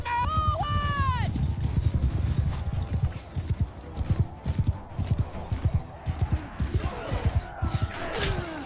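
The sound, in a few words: horses galloping in Bannerlord video game battle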